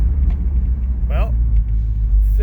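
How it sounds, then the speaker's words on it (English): Cabin rumble from a 1966 Plymouth Fury on a cold test drive with freshly repaired front brake cylinders: a continuous low engine and road drone, with a short vocal sound near the middle. "I took the Fury out for a test drive"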